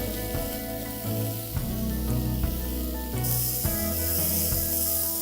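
A cashew and vegetable dish sizzles in a pan over low heat, with a continuous hiss and frying crackle and occasional stirring bumps, close and fairly loud, with background music.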